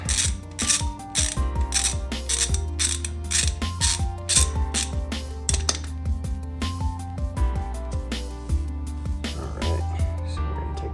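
A socket ratchet clicks steadily in repeated runs of sharp pawl ticks as it loosens a bolt on a car's transmission shifter, close and clear with little else around.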